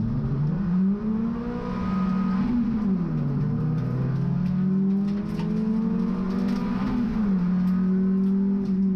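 Production rallycross cars, a Honda leading a 1600cc class including a Citroen C2, race at Lydden Hill with engines revving and shifting through gears in repeated rising whines, steady and prominent without talk.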